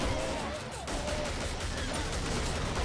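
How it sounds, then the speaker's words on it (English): Fully automatic shotgun fire in the Killing Floor video game: a dense, continuous roar of rapid blasts that fills the whole stretch, loud and close, barely dipping for a moment before resuming. "fully automatic shotgun fire"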